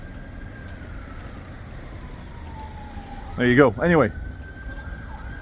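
A wailing emergency vehicle siren sweeps up and down in a city street by a seaside hotel, rising loud for a couple of seconds beneath steady traffic rumble, with a brief spoken remark nearby.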